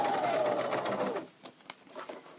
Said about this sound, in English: I'm trying to sew right along that edge there